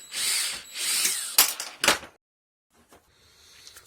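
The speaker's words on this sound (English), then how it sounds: "put our drill on the lowest setting, and then we're just going to twist that up" A power drill on its lowest setting twists wire in a few short whirring bursts that stop abruptly, followed by silence and then faint handling noises.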